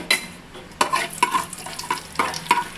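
Mustard seeds, cumin and fenugreek frying in hot oil, with a close sizzle broken by several sharp spoon clinks and scrapes against the pan as the spices are stirred.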